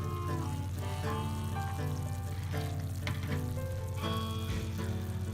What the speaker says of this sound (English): It sure looks and sounds tasty for campfire cooking